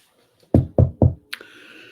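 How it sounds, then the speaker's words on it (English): Three quick, evenly spaced knocks on wood ring out close and sharp, followed by a softer bump and a faint trailing hiss. "Knock on wood."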